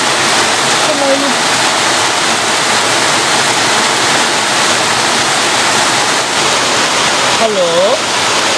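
A steady, heavy downpour roars without pause, dense and close, with a couple of brief faint voice-like sounds rising above it.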